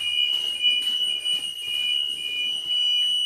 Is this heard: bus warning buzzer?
yes